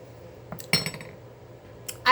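Spoon clinking and scraping against a pan of pomegranate jam as someone eats from it: a few short metallic clinks and scrapes close by, with quiet pauses between them.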